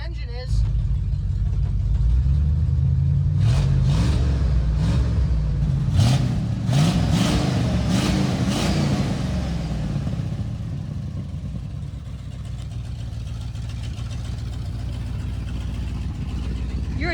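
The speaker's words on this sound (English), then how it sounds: "I heard an 8-cylinder running out here." A 1979 Ford F100 V8, left sitting for ten years, runs steadily close by with a loud, continuous engine note and a few revs partway through, with voices talking over it.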